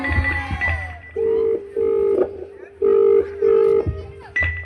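A phone ringback tone repeats in steady beeps, several evenly spaced rings with short gaps, fairly close and clear, with no one answering.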